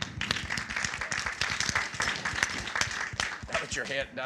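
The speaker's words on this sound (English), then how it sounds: "Round of applause for Brian Hegelke." Audience at a producers panel applauding, a quick, dense run of claps mixed with voices and cheers, close and fairly loud throughout.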